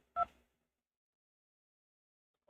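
A single short touch-tone beep for the 2 key, pressed on a telephone keypad in a support phone menu, sounds once near the start and is followed by silence.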